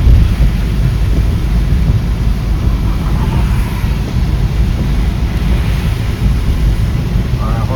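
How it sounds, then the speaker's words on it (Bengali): Heavy rain pours onto a road, a loud, steady rushing roar close by with deep rumbling underneath and no clear voices. "এখন রাস্তার ওপর বৃষ্টি পড়ে যে পুরো ধোঁয়া উঠছে"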